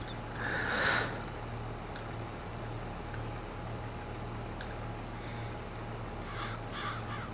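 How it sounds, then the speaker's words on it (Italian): A crow caws once, loud and close, in a farm video game, followed by a few faint, distant calls over a steady low background hum. "I corvi."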